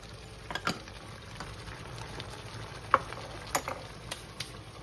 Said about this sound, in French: Et tu mélanges le tout.